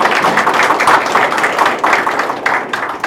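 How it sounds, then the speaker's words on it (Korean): Applause at a university president's inauguration ceremony, a steady crowd of hands clapping in a dense, fairly loud patter that continues throughout as a board member is introduced. "박수 부탁드립니다."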